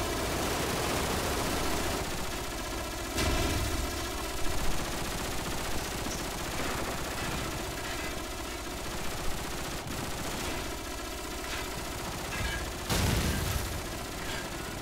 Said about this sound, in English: Now some idiot is like shooting his saw or whatever relentlessly